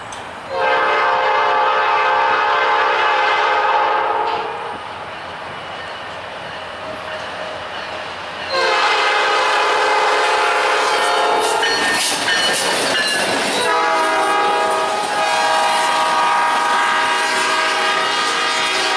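Norfolk Southern local freight D53 on the St. Louis District between Ferguson and St. Peters, Missouri, sounds its horn in long loud blasts, briefly easing off before a second sustained blast as the train rolls past with rumble and wheel noise.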